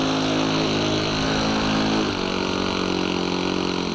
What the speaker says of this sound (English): Okay, I'm taxiing.